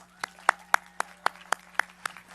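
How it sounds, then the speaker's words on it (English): At a community college commencement ceremony, a few close, evenly spaced claps beat out a steady rhythm of about four per second over a low electrical hum, sounding more like a single clapper than a full crowd. "Let's give them more applause."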